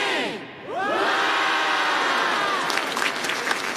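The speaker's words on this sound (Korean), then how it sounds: "내가 외치고, 박수도 하고, 자, 이렇게 외치고 있습니다" Members of a group cheer in unison, shout a chant and clap, with a sustained crowd roar that builds and holds, and scattered claps breaking through near the end.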